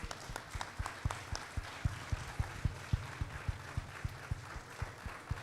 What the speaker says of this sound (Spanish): Les voy a pedir un gran aplauso para Ana Ribeiro